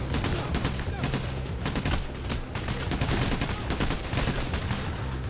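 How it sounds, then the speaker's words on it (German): Sustained automatic gunfire in the heist shooter Payday: The Heist, loud, rapid overlapping bursts of shots filling the whole stretch with no pauses. "Wo kommen denn die Schüsse her"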